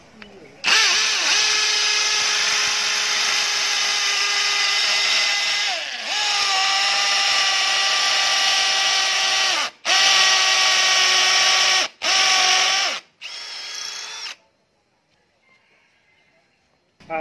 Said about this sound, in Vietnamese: Sau đây sẽ là phần test khoan với bê tông. Ở đây thì cụ thể là tôi khoan ở dưới đường bê tông nhé.